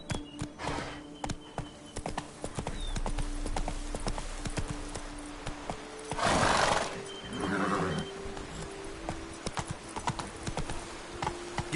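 Roach, a horse in The Witcher 3: Wild Hunt (Blood and Wine), clip-clops in a steady hoof rhythm, close and clear, with a loud neigh breaking in partway through.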